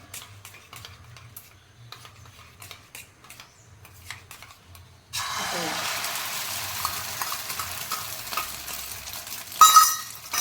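Beaten egg poured into hot oil for an omelette sets off a steady close sizzle after a quiet stretch of faint clinks and stirring, with a brief louder spatter near the end.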